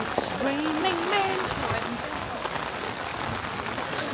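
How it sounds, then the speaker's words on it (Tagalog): Heavy rain pouring during a storm in Taiwan, a dense continuous wash of drops on surfaces, with a voice talking over it early on. "So makita nyo man nga ang ulan tama ka baskog"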